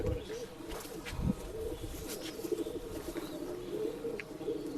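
Rekdhar pigeons at a bird sale in Bangalore coo in low, repeated murmurs, steady and fairly close, with faint background noise and a little talk nearby.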